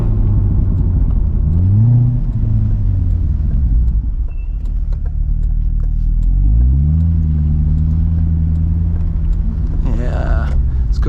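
A 2012 Corvette C6 Grand Sport 4LT Centennial Edition engine revs and accelerates twice, rising through the gears with a loud, deep, close rumble.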